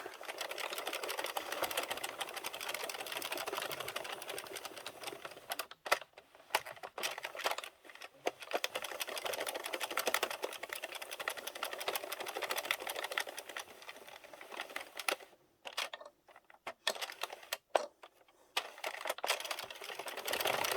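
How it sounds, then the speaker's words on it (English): A knitting machine carriage runs back and forth knitting rows of plain waste yarn, producing a steady, dense mechanical clatter and whir. Several brief pauses mark the row ends before the carriage resumes, and there is no speech. "I found with the plain knitting, my machine loves thinner yarn"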